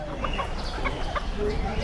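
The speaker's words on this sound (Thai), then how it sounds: "อันนี้เป็นมินิโคชินนะคะ ไก่แก้มินิโคชินก็ตระกูลไก่แก้ละค่ะ" Mini Cochin bantam chickens, a short, plump, feather-legged breed, clucking softly in a busy animal market, low repeated clucks under steady crowd noise and background voices.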